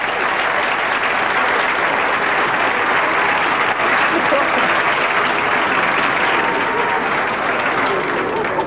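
A large crowd at a 1985 Children in Need broadcast in Blackpool cheers and applauds in a steady, dense roar that holds loudly throughout, with a voice faintly underneath.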